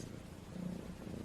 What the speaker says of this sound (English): about a purring cat that instantly makes you want to fall asleep.